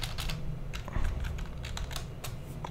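Rapid, uneven keystrokes on a computer keyboard as a folder name is typed, close and clear with short pauses between bursts, no talking.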